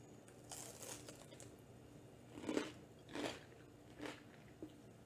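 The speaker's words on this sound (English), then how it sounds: "You can eat them with some applesauce." Potato latkes topped with applesauce being bitten and chewed, giving a few soft crunchy bites spaced about half a second to a second apart, close and fairly quiet, with no talking.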